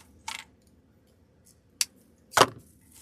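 An artificial floral pick has a stem snipped off, giving a few short, crisp cutting clicks spaced apart in an otherwise quiet room, the last snip the loudest.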